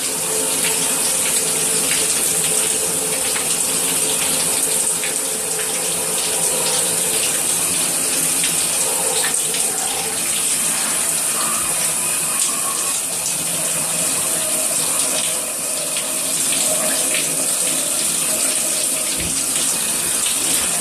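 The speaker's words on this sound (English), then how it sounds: "I do wash my face twice. So here we go again." A bathroom tap runs continuously while a face is washed, a loud, close, steady rush of water with faint splashing shifts throughout.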